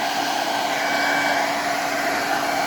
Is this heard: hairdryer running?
yes